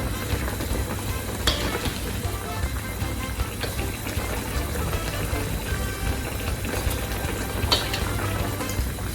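A steady bubbling boil of pork spare ribs in a pot, with soft scraping and clinks of a utensil stirring, continuous and fairly close, with no talking.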